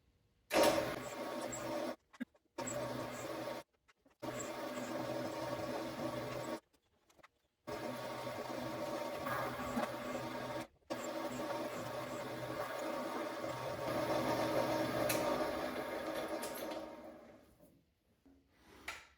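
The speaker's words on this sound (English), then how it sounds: "So I got everything drilled." A drill bores into small cast aluminum and copper dice with a sustained, close mechanical whir and grind, stopping and restarting several times in short bursts before winding down.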